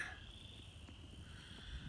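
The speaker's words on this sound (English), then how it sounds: "Frogs are chirping too." Frogs chirping outdoors on a warm spring-like evening, a faint steady high-pitched trill running continuously through the whole stretch over a low background rumble, with no voices.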